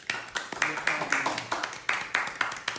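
Guests at an African Liberation Day gathering clap in a brisk, regular rhythm, each burst of hands close and moderately loud, with voices mixed in.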